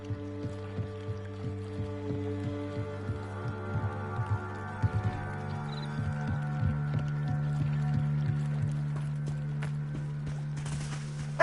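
Winged horses in Hogwarts Legacy clip-clop with steady, evenly spaced hoofbeats at moderate volume over a continuous low musical drone.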